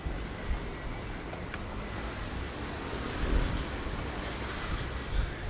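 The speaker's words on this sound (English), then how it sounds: "Wind's picking up again" Wind gusts along a seafront promenade in Palmanova, Mallorca, a steady broadband rush with a few stronger buffets against the microphone, and no voices.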